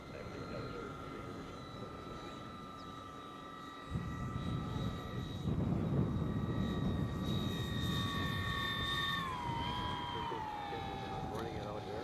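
A radio-controlled airplane at a jets and warbirds RC event drones steadily overhead with a high engine whine that shifts in pitch as it passes, mixed with gusty wind rumble at an outdoor field.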